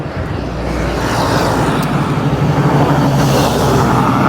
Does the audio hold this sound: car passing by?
yes